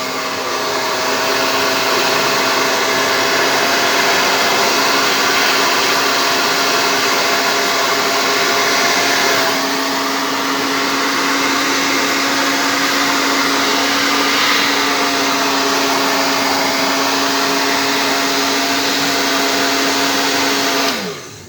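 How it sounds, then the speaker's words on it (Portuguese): A hair dryer runs loud and steady close by, drying freshly painted pieces of a leather knife sheath, a constant whooshing roar with a brief dip in the middle before it switches off at the end; no one speaks. "Agora eu ligo o secador."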